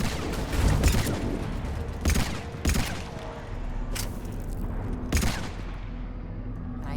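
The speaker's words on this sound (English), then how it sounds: "I don't think I like how slow this paladin shoots" Paladin pistol firing slowly in the video game Mass Effect 3, a series of heavy, widely spaced gunshots over a continuous rumbling game background, several blasts with long gaps between them.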